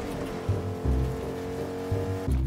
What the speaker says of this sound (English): Car coming. Yep, car coming right now.